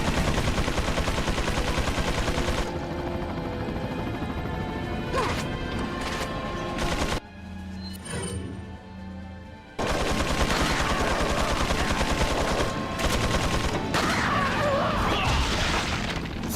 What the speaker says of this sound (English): that's a 10-barrel minigun